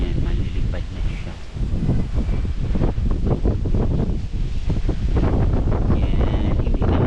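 Steady, loud wind rushes and buffets the microphone throughout at a scenic overlook, with rustling gusts and no clear voices.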